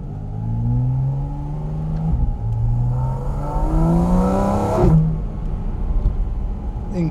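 A Porsche GT4 RS Weissach accelerates hard on a public road, its engine note climbing through rising harmonic sweeps with a brief gear-change dip, loud and close throughout, with no talking over it.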